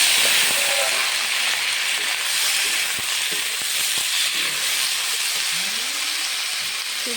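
Chopped, washed vegetables hiss and sizzle steadily in hot tempering oil in a pan, a continuous bright frying crackle with faint clinks and stirring sounds.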